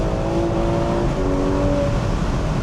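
A Ferrari 12Cilindri Spider, a convertible road car, roars under hard acceleration with a dense, steady engine drone and rising tonal whine, loud and close, with no voices.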